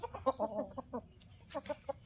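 Chickens cluck nearby in short, choppy bursts, a run of quick clucks followed by a few more after a brief pause.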